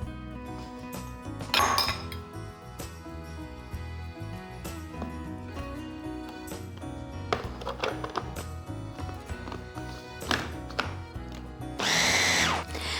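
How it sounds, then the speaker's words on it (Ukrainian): A hand blender whirs and clinks against a bowl while pureeing a broccoli and zucchini mixture, intermittent buzzing bursts with clatter, close and without talk. "всю масу я переклала в миску і почала подрібнювати ручним блендером"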